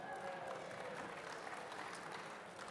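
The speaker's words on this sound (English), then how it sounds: "Round of applause." A crowd at a bicycle hall of fame induction ceremony breaks into sustained applause, a steady wash of many hands heard from a distance and fairly faint, easing off slightly toward the end.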